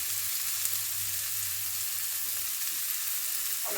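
Chopped tomatoes seasoned with salt fry in a pan for a fish curry, giving a steady, close sizzle that runs evenly throughout with a low hum beneath and no talking.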